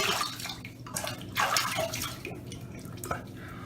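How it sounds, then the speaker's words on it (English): Running tap water splashes steadily and close by as a face is rinsed during shaving, with small irregular splashes and drips. "let me rinse off while I'm talking here"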